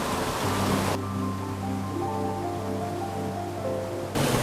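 A Carpathian mountain waterfall gives a steady, loud broadband rush of falling water throughout, partly overlaid in the middle by sustained musical tones.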